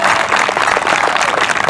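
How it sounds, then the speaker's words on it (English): A graduation ceremony crowd at Mepham High School bursts into loud, dense applause, many hands clapping together in a continuous roar that fills the moment. "I want to hear a very loud round of applause"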